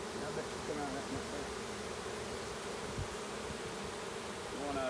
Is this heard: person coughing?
no